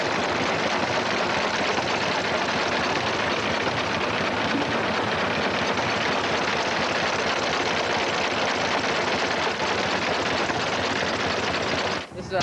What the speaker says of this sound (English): This is a 1910 Type V International tractor.